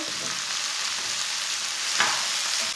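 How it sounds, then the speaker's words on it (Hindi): Chopped tomato, green chillies and peas fry steadily in a pan for an egg and pea curry, a continuous close sizzle with a spoon stirring through it and a brief louder scrape near the end. "5 मिनट तक चम्मच चलाते हुए भून लेंगे।"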